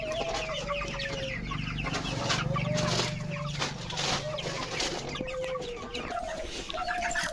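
Chickens clucking on a chicken farm, several birds calling in short repeated clucks and squawks over steady background noise at moderate distance.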